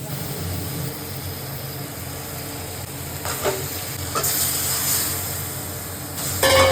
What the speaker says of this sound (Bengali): কিছুটা বেগুন ভেজে রেখেছি, আর এখানে ভাজা হচ্ছে কিছুটা